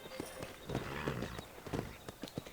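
Horse hooves clip-clop in the Red Dead Redemption video game, a run of uneven hoofbeats at close range with a faint whinny, no talk over them.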